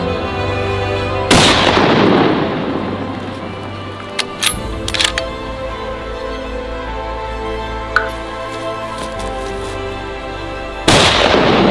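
A single sharp gunshot cracks out on a backcountry bear hunt, loud and close, then rings away into quiet wilderness air, with a second burst of noise near the end.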